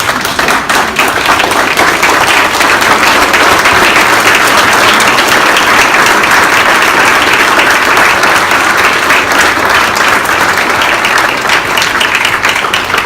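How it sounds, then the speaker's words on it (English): A large audience at an NAACP award event gives sustained, dense applause, loud and continuous for over ten seconds without talk. "So please, let's stand and give them a round of applause."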